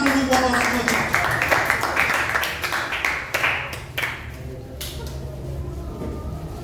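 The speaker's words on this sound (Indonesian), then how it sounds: "Tepuk tangan dulu buat orang tua." An audience applauds the parents with a dense burst of many overlapping hand claps that thins out and fades, with a voice talking faintly underneath.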